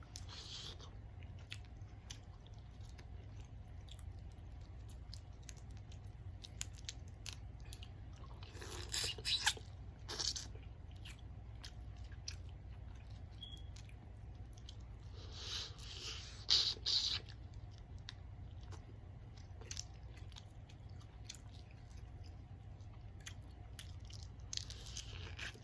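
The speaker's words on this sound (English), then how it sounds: "I'm just tired of chewing." Close, quiet chewing and biting of a spicy seafood boil with squid, crab, crawfish, sausages and eggs, with scattered crunchy bites and wet mouth sounds over a low steady hum, with no talk.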